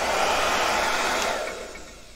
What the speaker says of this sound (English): it's actually pretty quiet for a hair dryer